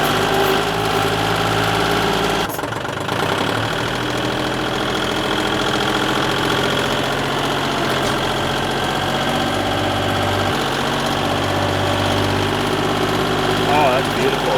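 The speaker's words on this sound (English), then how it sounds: "Obviously this is really slow with the front end loader." A front end loader's diesel engine running steadily and loud close by while it works dirt on a motocross track, a continuous rumbling drone with slight shifts in load.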